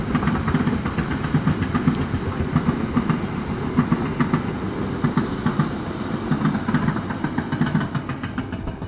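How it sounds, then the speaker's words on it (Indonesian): A train rolls past close by, loud and steady, with rhythmic clickety-clack of wheels over the rails throughout. "Wow, ada kereta bray lewat nih"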